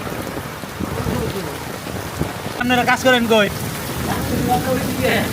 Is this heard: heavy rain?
yes